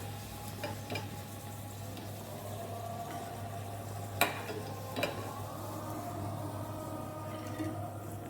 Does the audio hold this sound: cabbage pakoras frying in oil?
yes